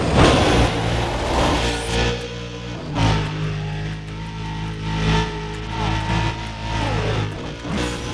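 A race car accelerating in a Need for Speed: Undercover highway race on I-85, its engine revving loudly and rising through several gear shifts over eight seconds, close and continuous with no talk.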